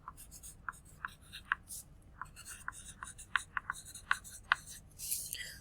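Pencil or pen writing a name on a math worksheet, with a series of short, crisp scratchy strokes in an irregular rhythm, close and fairly quiet, with no speech over it.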